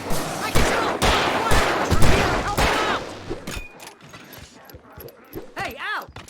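Rapid gunfire from the video game Alan Wake Remastered cracks out in loud, dense bursts over the first few seconds. It then gives way to quieter game sounds and voices.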